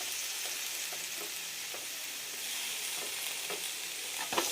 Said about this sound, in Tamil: தக்காளி ஆட் பண்ணி வதக்கலாம்.